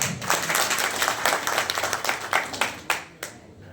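An audience claps loudly for politician Ram Singh at a rally, with individual claps standing out in a lively, uneven burst that thins toward the end to a few scattered sharp claps.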